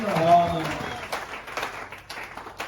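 A church congregation at a Sunday service breaks into applause and scattered clapping that fades gradually, with a voice speaking over the start.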